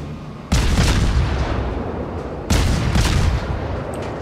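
Two heavy naval gun salvos in World of Warships, each a loud, sudden boom with a long rumbling tail, the second roughly two seconds after the first.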